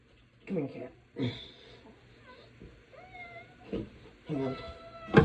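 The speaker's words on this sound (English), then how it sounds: "Come here, cat." A pet cat meows several times close by, short voiced cries spread across a few seconds with quiet pauses between them and faint room noise.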